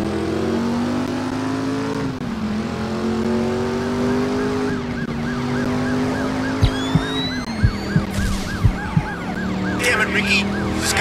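A wailing ambulance siren from the game Driver: San Francisco cycles up and down over engine drone, joined later by sharp rhythmic percussive hits near the end.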